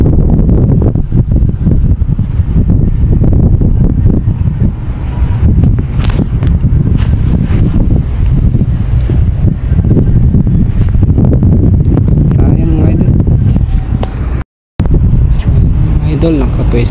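Steady, loud wind buffeting the microphone during fishing outdoors, with a constant low roar throughout, briefly cutting out near the end.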